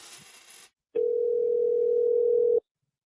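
A steady telephone dial tone sounds on a troubled prison phone call, one continuous flat hum lasting under two seconds after a short burst of line noise and a pause of silence.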